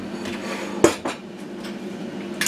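A couple of sharp clinks of dishes knocking together, close by in a quiet room, with another faint clatter near the end.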